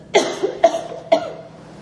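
Three sharp coughs in a row, close and fairly loud, evenly spaced about half a second apart, then quiet.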